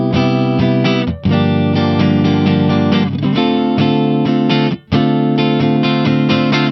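An electric guitar with pickups switched to single-coil mode plays a loud, strummed chord progression with a few brief pauses between chords, bright and full with some effects coloring the tone.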